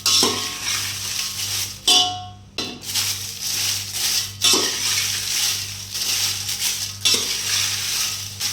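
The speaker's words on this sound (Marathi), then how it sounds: "सर्वप्रथम तळून घ्यायची आहे ही लवंगी मिरची." Lavangi chillies, a quarter kilo of hot green chillies, frying in oil in a pan, with a steady broad sizzle and intermittent clinks of a spoon stirring against the metal; no talking.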